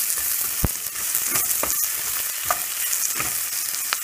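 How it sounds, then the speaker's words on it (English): Ingredients for egg biryani sauté in a hot pan with tomatoes, masala, shallots and green chili, giving a continuous bright sizzle broken by several sharp scraping stirs, close and loud, with no talk. "And saute it for just 1 minute"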